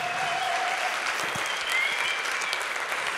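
Sustained applause from an audience at the 2023 Hopl'Awards ceremony, greeting the vocal ensemble Strassapel and their choir director, a steady dense clapping texture at even loudness throughout.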